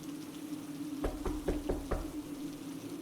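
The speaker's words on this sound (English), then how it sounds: "The knocks came again, slow, deliberate." Five distinct knocks on a door, evenly spaced and deliberate, sound faintly over a low, steady hum in an otherwise quiet room.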